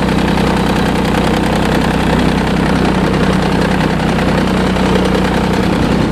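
A Kubota D722 three-cylinder diesel in a TG1860 lawn tractor idles after a cold start, a loud, close, steady clattering knock with a rhythmic low-frequency throb throughout.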